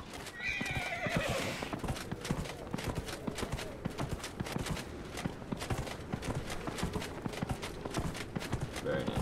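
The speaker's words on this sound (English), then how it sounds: "I love our armored horse." An armored horse in Dragon Age Inquisition gives a loud whinny at the start, followed by a steady, close rhythm of hooves clip-clopping at a trot throughout.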